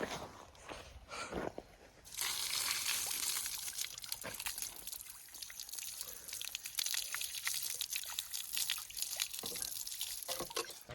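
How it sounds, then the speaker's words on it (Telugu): Water is poured onto newly built concrete pillars at a village construction site, with a continuous splashing pour and a trickle that runs steadily, broken by scattered drips and small splashes. "మళ్ళీ వాటర్ పోస్తున్నాం పిల్లర్స్కి."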